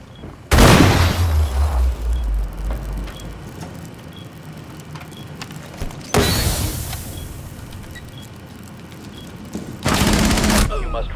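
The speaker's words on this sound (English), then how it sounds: "They shot me right before I finished planting." Rapid automatic gunfire in the video game Rainbow Six Siege, set during a bomb-mode match on the Oregon map, comes in three loud, sharp bursts separated by quieter stretches of game ambience.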